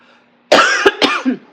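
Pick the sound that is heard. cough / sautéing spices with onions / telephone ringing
cough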